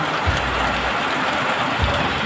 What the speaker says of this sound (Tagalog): Pumasok na naman yung tubig ulan sa baba.